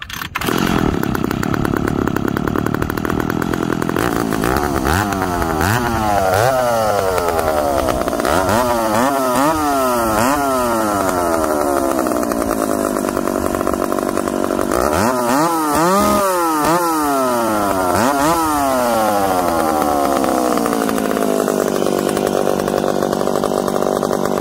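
A ported McCulloch chainsaw fitted with an Oregon ignition chip runs loud and close, revving up and down repeatedly as it makes quick cuts, the engine pitch sweeping in steady cycles throughout.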